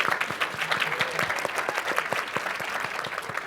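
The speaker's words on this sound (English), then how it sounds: "the more applause, the better" An audience at a public forum on inclusive democracy applauds: dense, steady clapping from many hands that keeps going without a break, close and fairly loud.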